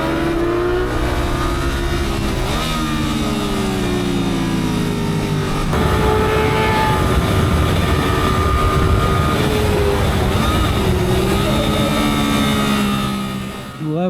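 A Suzuki GSX-8R twin-cylinder motorcycle engine pulls hard while riding, its steady loud drone rising and falling in pitch through gear changes, close up with no voices.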